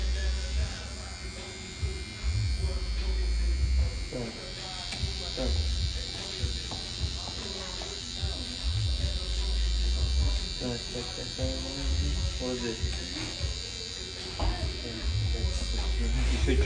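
Electric hair clipper buzzing steadily while someone cuts a medium fade blindfolded, the close motor whine running throughout with brief changes as it moves over the head, with someone talking quietly over it.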